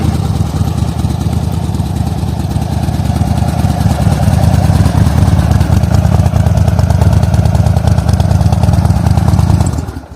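Up close, a 1600cc Harley-Davidson V-twin motorcycle engine idles with a loud, throbbing low rumble, holding steady before cutting out abruptly at the very end.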